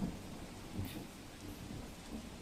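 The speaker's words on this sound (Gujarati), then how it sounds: "ભારે વરસાદ જે વરસી રહ્યો છે, વરસાદનું જોર પણ આપ જુઓ વધારે જોવા મળી રહ્યું છે." Heavy rain falls during a thunderstorm in Ahmedabad, heard as a faint, steady wash of rainfall with a soft low rumble underneath.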